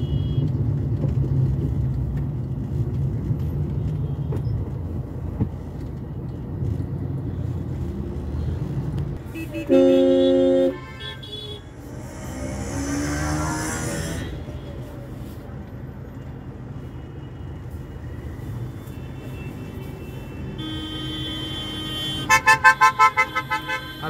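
Road traffic jam in Bhiwandi with a steady low engine rumble of idling vehicles, broken by several car horn toots: a long blast near the middle and a rapid burst of short honks at the end.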